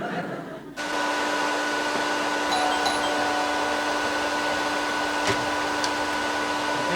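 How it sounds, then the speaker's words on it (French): A vacuum cleaner switches on and keeps running with a loud, steady whine and hum, with faint background sounds above the constant drone. "Arrêtez l'aspirateur."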